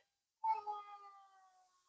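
A cat gives a single clear, close meow that trails off slowly in a quiet room.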